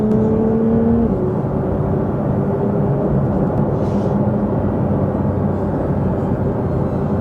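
A Porsche 911 992 GT3 Touring engine pulls hard in second gear, a loud continuous in-cabin roar with a rising tone that shifts pitch early on, then holds steady and strong.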